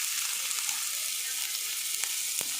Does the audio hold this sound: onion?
yes